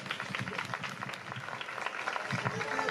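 Crowd applause for the founders at a 25th anniversary celebration in Losar de la Vera, dense clapping mixed with crowd voices and cheering, steady throughout.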